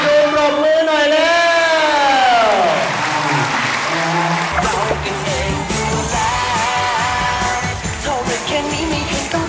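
Children in a club audience clap on request at a Thai stage show, the clapping building into a dense wash while a sung or spoken voice slides high over the start and the crowd noise carries on underneath.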